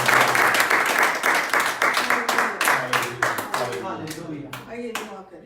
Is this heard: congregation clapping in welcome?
yes